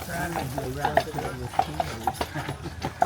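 Carriage horses' hooves clip-clop on the road on Mackinac Island in a steady, fairly close rhythm, running beneath continuous talk.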